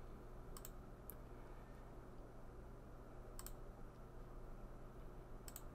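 A few sharp computer mouse clicks while working in Open Dental software, quiet and isolated: a quick double click, a single click, another pair, then one more, over a steady low hum.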